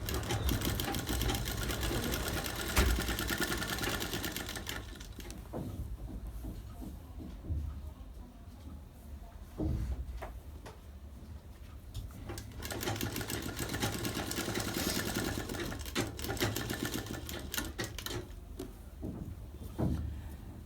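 A sewing machine runs stitching piping onto fabric without any cord inside, a continuous close mechanical whir with brief dips and restarts as the fabric is guided along.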